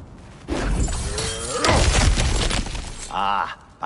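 Wooden obstacles shatter and crash in God of War Ragnarok, a loud burst of splintering breakage with debris rattling down, followed by a brief grunt-like vocal over the tail.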